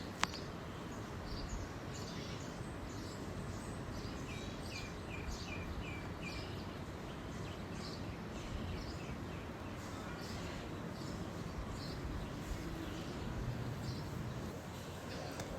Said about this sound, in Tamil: எங்கள் வீட்டில் நிறைய குருவி இருக்குன்னு சொன்னேன் இல்லைங்களா, அதுங்களோட சவுண்டு கேளுங்களேன்